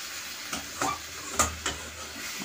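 Green mango chutney with sugar stirred in a pan gives a few soft, evenly spaced scraping strokes over a faint low hiss. The sound is quiet and close, with no voices.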